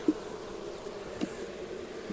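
Honey bees hum in a steady, close drone at an opened hive as frames of brood are rearranged, with a couple of faint knocks from handling; no voices.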